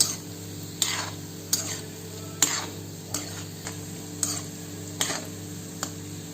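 Gulab jamun frying in oil are stirred continuously in a pan, with regular scraping strokes of a spoon about every second over a soft, constant sizzle.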